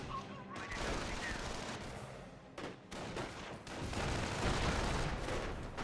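Mortar hit in the real-time strategy game Company of Heroes 1, heard amid a dense, continuous roar of battle with overlapping gunfire and explosions, fairly loud throughout.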